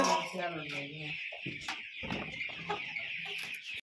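Desi chickens on a farm in Odisha cluck and squawk nearby while pecking at grain and rice, a busy overlapping chorus that stays steady throughout, with a faint voice in the background.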